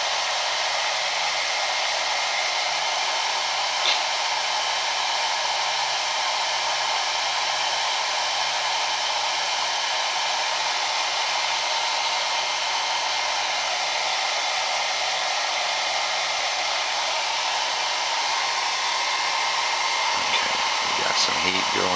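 Hair dryer blowing hot air steadily onto a modern G.I. Joe action figure, a loud, constant broadband whoosh that runs unbroken throughout with no pauses.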